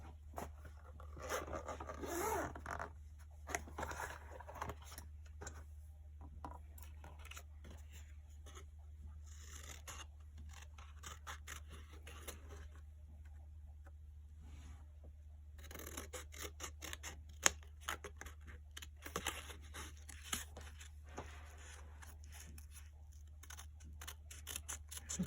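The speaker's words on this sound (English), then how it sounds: "Then I'm going to take my scissors and try to cut it out." Scissors slowly cut out a stamped paper card, producing quiet intermittent snipping and rasping strokes over a steady low hum, faint and close with no talking.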